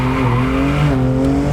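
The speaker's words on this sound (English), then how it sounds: "Turn in, second gear, hold it on the throttle here, turn around, just a little push." A BMW M2 Competition corners on the throttle in second gear, its engine holding a steady, loud drone with tires faintly squealing through the turn, close and continuous with no talk.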